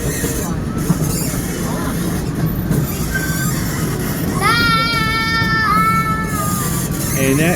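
Riding aboard the Knoebels Pioneer Train, a continuous rumble of wheels on rails fills the background while a person talks, with a high squealing tone rising near the end as the train slows.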